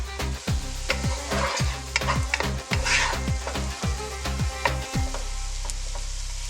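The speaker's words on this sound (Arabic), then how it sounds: "وبغطيهم وبتركهم شوي حتى يستوي الفطر" Mushrooms with ginger sizzle and fry in a covered pot, struck by a run of sharp, regular stirring knocks for about five seconds, then a quieter steady sizzle alone.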